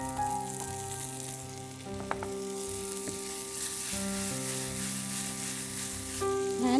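Crispy chicken pakoras sizzling in hot oil: a steady, close crackling fry that holds throughout, with a faint tonal hum running underneath.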